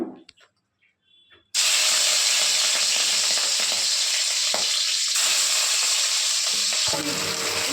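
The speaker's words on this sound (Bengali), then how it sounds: "এবার আমি মাছের পিসগুলো দিয়ে দেব।" Fish pieces drop into a hot pan and burst into loud, steady frying, a dense sizzle that holds strong after a quiet start with small kitchen noises.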